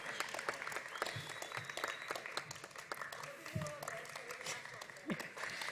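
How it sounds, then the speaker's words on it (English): Graduation ceremony audience applauding, a dense sustained wash of clapping throughout with crowd noise and a few brief voices mixed in. "give a big round of applause for these silent heroes."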